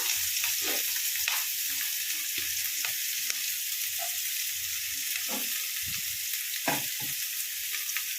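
Onions fry in hot oil with a constant bright sizzle, broken now and then by soft scrapes and clicks of stirring.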